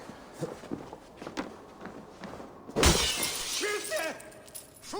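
Glass panels shattering in Assassin's Creed Valhalla, one loud crashing burst midway after footsteps and grunts, followed by tinkling debris and game voices.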